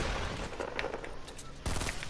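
Rapid bursts of gunfire in a multiplayer shooter video game, dense crackling shots with a louder volley near the end, while players talk over it.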